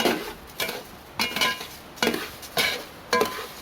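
Two utensils scrape and clink against a pan in a steady alternating rhythm, about six stirring strokes, close and alone with no talk.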